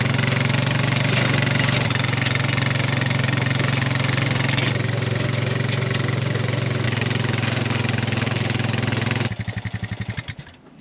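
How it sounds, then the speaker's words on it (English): A steady, loud tractor engine drones throughout with a deep low hum at a vegetable farm field, then the sound breaks into uneven sputtering pulses near the end. "The tractor is now here."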